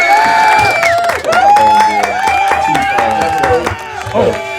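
A podcast audience claps and cheers for a guest in a loud, dense burst. Shouts and whoops ride over the clapping, and voices talk through it near the mic.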